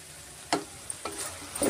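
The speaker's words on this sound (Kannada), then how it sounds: "ಮೀಡಿಯಮ್ ಫ್ಲೇಮಲ್ಲಿ ನಾವು ಚೆನ್ನಾಗಿ ಫ್ರೈ ಮಾಡ್ಕೊಳ್ಳೋಣ" Vegetables and tomato for a bread pulao fry on a medium flame in a soft, steady sizzle, broken by three or four short spatula scrapes spaced about half a second apart, close with no voices.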